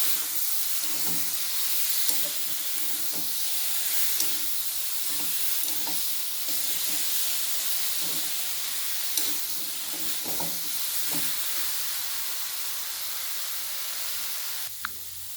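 A paste of ground coriander, cumin and black pepper with Kashmiri chili powder sizzles in a pan. A spoon stirs it with soft scrapes about once a second under a constant hiss, and no one speaks.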